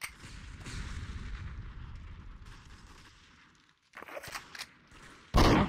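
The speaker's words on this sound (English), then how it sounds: "you can shoot me all day if you'd like" Gunfire in the VRChat world Wayfaring, with a run of heavy rumbling shots followed by a brief lull, then several sharp cracks and a final loud blast near the end.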